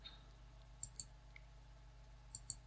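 Faint computer mouse clicks on a Peppermint 8 Linux desktop: a quick pair near the start and another pair near the end, over a quiet low hum.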